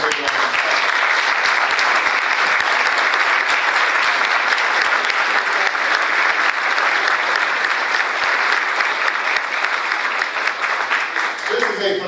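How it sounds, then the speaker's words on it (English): An audience of educators applauds state and national teachers of the year at a presidential address, a thick, even wall of clapping that holds strong and unbroken for about twelve seconds before easing slightly at the end. "So give them a big round of applause."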